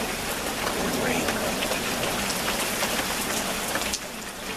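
Heavy rain pours steadily and densely on a soggy day, a loud, continuous hiss of drops close by, easing slightly near the end.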